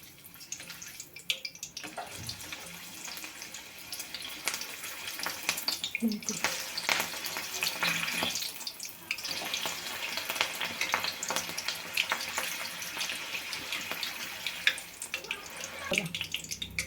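Green chilies fry in hot oil in a kadhai for Mumbai vada pav, making a continuous bubbling, hissing sizzle that holds loud and close for the whole stretch with brief dips.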